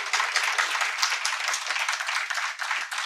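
An audience in a hall at a literary festival claps together, a dense, steady round of applause that holds evenly for a few seconds.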